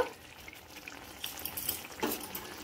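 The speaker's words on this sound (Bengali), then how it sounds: "একটু ভালো করে নাড়িয়ে নেব।" Raw banana curry stirred in a pan after a sprinkle of garam masala: a soft, quiet sizzle with gentle scraping and a couple of brief utensil knocks, close by and without speech.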